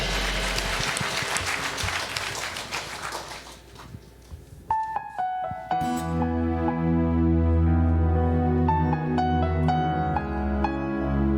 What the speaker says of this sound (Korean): 우리에게 복을 주시는 하나님께 우리 감사와 영광의 박수 올려드리겠습니다